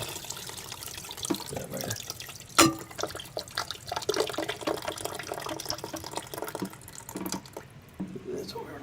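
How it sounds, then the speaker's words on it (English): Water drains from a toilet tank into a bucket during a fill valve replacement, a soft trickling and dripping with scattered clatter and a sharp knock, while a person speaks briefly. "Let the water just drain in the bucket."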